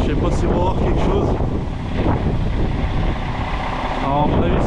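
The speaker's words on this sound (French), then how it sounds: "j'ai du vent qui arrive de là, qui vient taper sur ma benne" Strong wind buffeting a truck's dump body in changeable weather, a loud continuous roaring rush with microphone wind noise, steady gusting throughout with no break.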